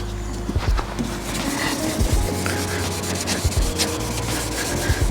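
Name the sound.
wet sanding car paint, grit catching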